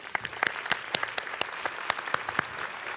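Audience applause at a Boys and Girls Clubs Legacy of HOPE ceremony, a steady patter of many hands with a few sharper individual claps standing out, moderately loud in a hall.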